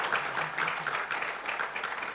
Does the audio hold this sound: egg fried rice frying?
no